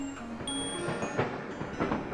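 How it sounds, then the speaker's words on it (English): A train ride in the Animal Crossing game intro: a steady rolling rumble of railcars with rhythmic clatter and a few faint tonal whistle-like tones over a continuous background. "So you're taking a train ride to the new village of where it is you're going to be moving to."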